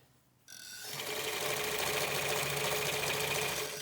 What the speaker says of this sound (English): Just sewing the bias binding all the way back.